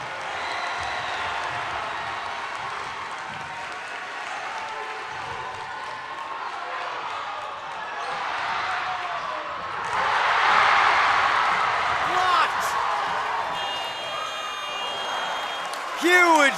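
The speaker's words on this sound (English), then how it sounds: "23 seconds to go, and boy, listen to this crowd." Loud gymnasium crowd at a boys' high school basketball game, Sterling vs Metamora, roaring and cheering through the closing seconds of the first half, swelling louder toward the end with sneaker squeaks and a buzzer-like tone over the din.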